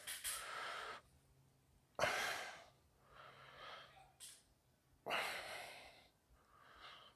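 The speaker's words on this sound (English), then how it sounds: "Hope I'm not breathing too loud" Heavy, breathy exhalations come in long bursts separated by quieter pauses, close to the listener, with no talking.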